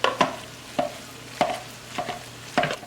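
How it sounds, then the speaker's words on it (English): Ground turkey browns in a pan under a soft sizzle, with about half a dozen sharp spatula scrapes and taps at irregular intervals as the meat is broken up and stirred, close and alone. "we're just going to kind of break that up and let the turkey brown good"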